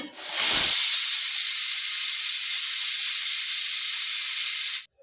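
A pressure cooker's loud, sustained hiss of steam bursts out abruptly and holds at a constant level for several seconds before cutting off sharply.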